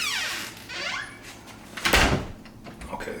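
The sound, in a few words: heavy door creaking open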